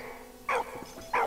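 Dog in a World War I video game barking twice, two sharp separate barks about half a second apart over a quiet game background.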